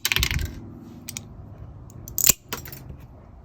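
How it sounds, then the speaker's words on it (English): Tile nippers biting the corners off a square vitreous tile over a bucket: a sharp crack with scattered small clicks of falling chips, a few brief snaps spread across otherwise quiet handling noise. "So you start off by cutting the corners off."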